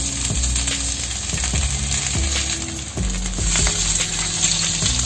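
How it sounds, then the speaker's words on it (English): Steady sizzling of salmon tail frying in a hot stainless steel wok, continuous and close, with occasional metallic clinks and scrapes throughout. "And now we put our salmon onto our pan."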